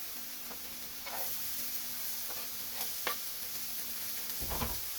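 Onion frying in butter in a pan makes a steady, close sizzling hiss, with light stirring clicks and a heavier thump just before the end.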